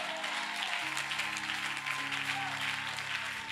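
A church congregation claps and cheers in steady, dense applause, sustained throughout with a held musical tone underneath, fairly close and full.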